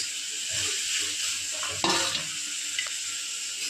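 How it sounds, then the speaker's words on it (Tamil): Tomatoes stirred into a hot pan of frying ingredients, giving a steady close sizzle with a few scraping stirs of a utensil, no voices. "அப்புறம் தக்காளி போட்டுக்கணும் ஃப்ரெண்ட்ஸ்."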